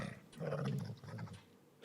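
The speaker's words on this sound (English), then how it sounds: "Fenrir's growl filled the room like thunder" The wolf Fenrir lets out a short, low, rumbling growl, heard faintly and alone for under two seconds.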